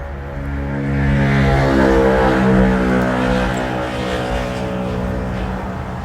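Sewing machine running steadily while stitching elastic into a trouser waistband, a loud close motor whir that rises and holds for several seconds, no speech.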